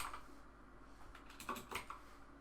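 Fast, light clicking from typing on a computer keyboard, faint and close, with a short burst of quicker keystrokes near the middle.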